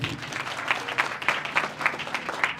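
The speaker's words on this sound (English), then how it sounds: "we can give them a round of applause" A crowd clapping steadily at a youth games torch ceremony, a warm even round of applause with rhythmic peaks, heard from within the audience.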